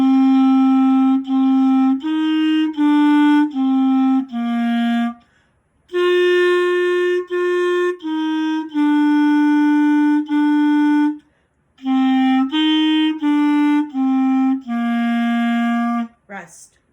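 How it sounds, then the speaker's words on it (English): A clarinet plays the simple folk tune Go Tell Aunt Rhodie in clear, separate held notes. Short phrases are broken by two brief rests, and the playing is solo and close, with no talk. "That's Go Tell Aunt Rhodie for clarinet."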